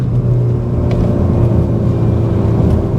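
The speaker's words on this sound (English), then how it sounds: "S plus is clearly full-on Larry mode because it is revving really highly." A 2025 CUPRA Formentor VZ3 333PS revs steadily in S mode, holding a loud, sustained engine drone for the whole stretch with no speech.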